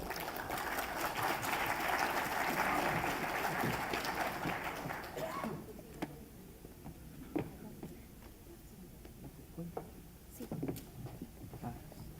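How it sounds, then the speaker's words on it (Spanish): Applause from a forum audience welcoming a speaker on renewable energy from solid waste, a fairly full round that thins abruptly after about five seconds into scattered claps, shuffling and knocks. "Un fuerte aplauso"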